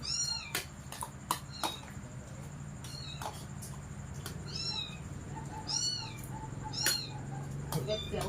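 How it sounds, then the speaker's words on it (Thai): Kitten meowing repeatedly in short rising-falling cries, fairly close, over steady background hum and occasional clicks, with no other voices. "เสียงลูกแมว"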